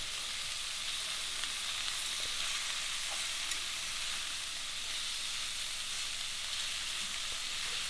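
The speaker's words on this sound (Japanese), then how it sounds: "肉を焼いていきます。" Steady, loud sizzling of rabbit meat searing in a hot pan, a continuous crackling hiss with no talking.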